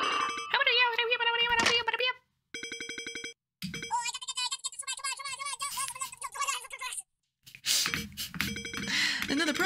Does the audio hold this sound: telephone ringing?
yes